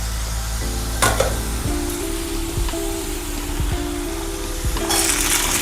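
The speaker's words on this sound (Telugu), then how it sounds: "ఇప్పుడు బఠానీ వేసేద్దాం." Green peas tipped into potatoes frying in a pan, a steady loud sizzle and crackle running throughout, with a few soft knocks of stirring and a brighter burst of hiss near the end.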